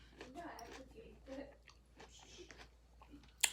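Close mouth sounds of someone chewing fries and green beans during a fast-food meal, with soft wet bites and a brief sharp crunch near the end, mixed with quiet talking.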